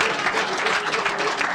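A studio audience at a Nigerian radio and TV call-in programme breaks into brief, steady applause, a dense wash of clapping with a few voices underneath.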